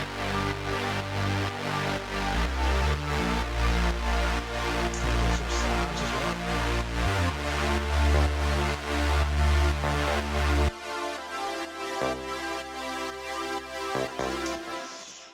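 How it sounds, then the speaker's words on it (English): A synth bass line with sustained pads plays a steady, repeating electronic pattern, with deep pulsing low notes under sustained chords, loud and close and with no voices. "So our bass, along with the pads and stuff, sounds a wee bit like this."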